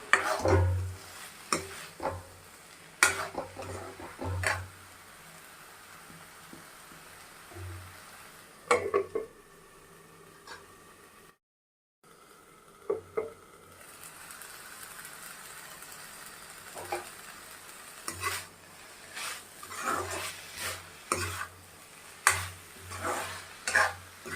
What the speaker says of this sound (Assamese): এতিয়া এইখিনি ভালদৰে মিক্স কৰি মই ভাজি ল'ম অলপ সময়।